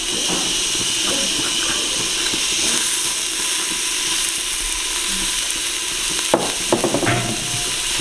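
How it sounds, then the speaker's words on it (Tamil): Tomatoes sauté in a pan for turkey biryani with a loud, steady sizzling hiss throughout, and a few clatters of a utensil near the end. "தக்காளி நல்லா வதங்க மட்டும் ஒருக்கா வதக்குவோம்"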